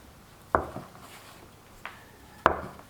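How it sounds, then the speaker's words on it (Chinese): A wooden rolling pin works sesame-topped dough on a board, giving three sharp, separate knocks spaced over about two seconds, near and moderately loud in an otherwise quiet kitchen. "用擀面杖擀开，擀到一半的时候再给它翻面"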